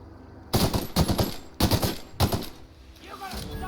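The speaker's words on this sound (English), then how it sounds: "So I can finally test out this assault rifle" An assault rifle in The Outer Worlds fires in several sharp bursts of rapid shots separated by short gaps, loud and close against a quiet background.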